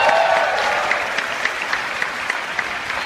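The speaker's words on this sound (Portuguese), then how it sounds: "você prepara para aplaudir" Church audience applauding, a steady moderate wash of many hands clapping that holds for a few seconds, with a few sharper individual claps standing out as it continues.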